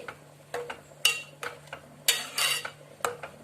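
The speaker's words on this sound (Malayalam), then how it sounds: "നന്നായി ഇളക്കി കൊടുക്കാം ഒരു പത്ത് മിനിറ്റ് വെന്താൽ മതി" Aval payasam is stirred in a pot with a utensil that clinks and scrapes against the metal in a quiet, irregular series of taps.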